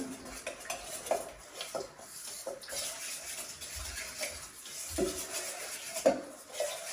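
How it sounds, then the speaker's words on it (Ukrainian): Funchoza glass-noodle salad with a honey sauce being tossed and stirred in a bowl, giving soft wet squelches with a few sharp utensil clinks against the dish, fairly quiet and close, with no talking. "Все ретельно перемішуємо. Перемішуємо, щоб поєднався соус з медом."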